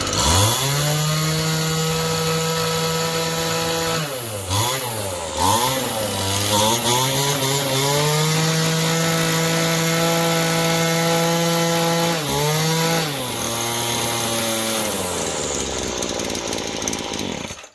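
A Poulan string trimmer's small two-stroke engine runs loud and close throughout, a steady buzzing idle with a few brief revs and dips in pitch, then settles back to its even drone.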